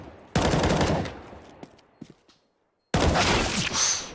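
Rifle fire in a CS:GO match on Cache, a close rapid volley, then a few sparse single shots, a short silence, and another loud burst of automatic fire.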